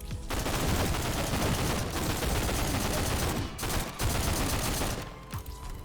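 Sustained rapid gunfire from the shooter video game Get To The Orange Door, dense overlapping bursts and shots filling the mix loudly, with brief gaps before firing resumes.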